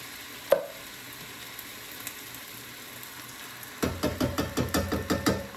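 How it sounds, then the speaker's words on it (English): Crushed tomatoes go into a hot soup pot with kale and chickpeas. A single clack comes first, then a low sizzle, and finally a run of rhythmic scraping and stirring strokes, close by. "And now I'm going to add the crushed tomatoes."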